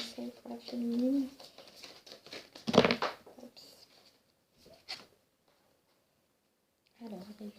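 A tarot card is drawn from the deck with a short papery rustle and crisp slide, set between a woman's spoken French before and after.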